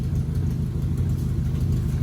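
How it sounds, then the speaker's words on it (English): A Ford Ranger with a cheap custom exhaust idles close by, a steady, loud, low rumbling drone with an even throb and no talking. "There you have it, cheap exhaust."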